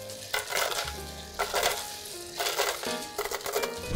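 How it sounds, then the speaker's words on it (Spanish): Ice is tipped into almond and coconut milk, with about four loud clattering, crunchy bursts separated by short pauses. "vamos a colocarle hielo."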